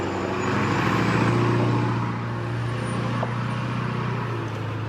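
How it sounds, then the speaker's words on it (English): A steady low engine rumble of heavy diesel truck traffic drones throughout, slightly louder at first, with no voices. "Diesel trucks."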